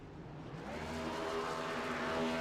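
A Next Gen Cup car in a racing video game does burnouts, its loud engine roaring steadily and building slightly in intensity without a break, with no talking.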